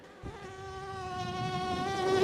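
A voice mimics a buzzing mosquito on stage, a thin nasal whine that holds and slowly rises in pitch and loudness for about two seconds.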